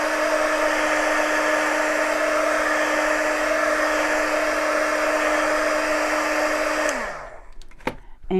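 Heat gun blowing hot air to dry paint on an egg pedestal frame, a loud steady whir that holds for about seven seconds before winding down, followed by a few faint clicks.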